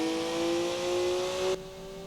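Car engine in the racing game Forza Horizon 4 holding a steady, loud rev with a sustained droning tone that drops off abruptly near the end, with no other sounds on top.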